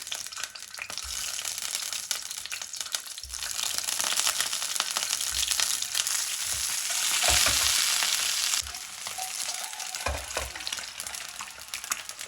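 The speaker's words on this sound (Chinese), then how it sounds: "油热，下入鸡蛋。" Eggs frying in hot oil in a pan, a loud continuous crackling sizzle that swells and fades with stirring scrapes over about twelve seconds, with no talking.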